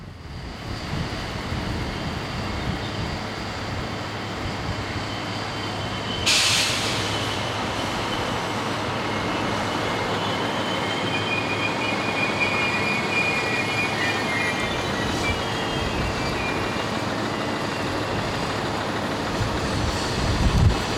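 An MR diesel train running on a Danish railway line, a steady continuous rumble and rail roar heard close throughout, with a brief higher squeal or hiss partway through and no voices.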